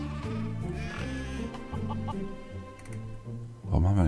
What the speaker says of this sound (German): Das ist ein Hühnchen.